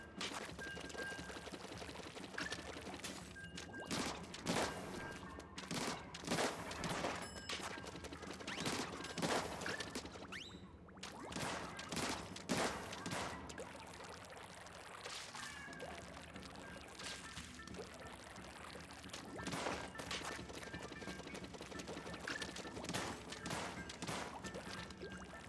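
Splatoon 3 Splatfest battle: rapid wet splattering ink shots in bursts and occasional bomb pops over steady game music, moderately loud throughout.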